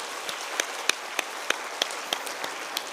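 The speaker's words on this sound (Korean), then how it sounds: "다시 한번 감사와 격려의 박수하도록 하겠습니다" At a church worship service, the congregation claps in a soft, steady wash with sharp, regularly spaced percussive taps about every third of a second cutting through it.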